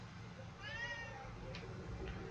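A pet cat gives a single drawn-out meow close by, rising then falling, over a low background hum, followed by a couple of faint short sounds.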